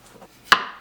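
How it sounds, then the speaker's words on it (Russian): A knife cutting beef into small pieces on a cutting board, one crisp chop landing sharply after a few faint scraping movements, close and otherwise quiet. "Нарезаем на небольшие кусочки, где-то по 40 грамм."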